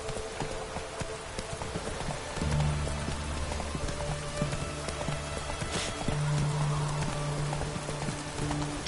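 A horse gallops through the open world of The Witcher 3, its hooves a steady, fairly quick clip-clop over a continuous ambient bed of wind and game atmosphere, with low rumbling tones rising midway.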